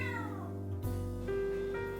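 A cat meows in a cat video, a single drawn-out cry rising over a steady background tone, heard alone with no talk.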